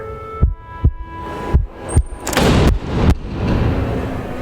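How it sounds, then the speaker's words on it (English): Low, muffled heartbeat thumps land at uneven intervals, then give way to a swelling rush of noise. No voices. "she thought she heard distant heartbeats, slowly growing louder"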